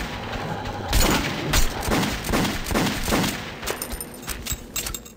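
Gunfire in Metro 2033 Redux: a series of loud, punchy shots rings out at roughly even intervals, about five in a row, then trails off into quieter game ambience.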